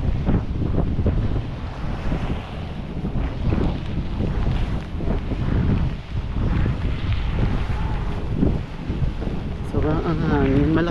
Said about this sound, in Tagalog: Sobrang ang hangin.